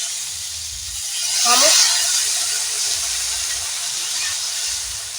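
Water poured into a hot pan of fried snails sets off a loud, rushing hiss that swells around the middle and then settles into a steady sizzle, close by and without talk.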